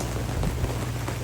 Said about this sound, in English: heavy rain, a little bit of wind here, 15 feet swell